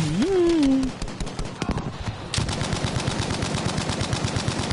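A Bren gun firing in Battlefield V, a rapid steady stream of close, sharp shots lasting over two seconds, preceded by a short rising tonal sound and scattered impacts.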